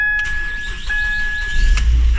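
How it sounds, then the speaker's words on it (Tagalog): A Ford Focus that had been cranking without starting catches and runs, with a low engine rumble swelling near the end over a steady high whine, close by. "napastart na natin yung Ford Focus na to"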